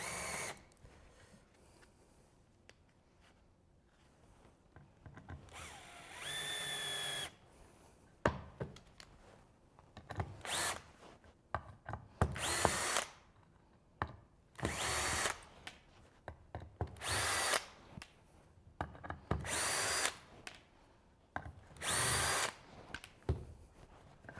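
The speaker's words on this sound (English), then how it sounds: "Normally I pre-drill to prevent the wood from cracking." A power drill whirs in repeated short bursts, biting into wood, with quiet knocks and pauses between each run; close and loud.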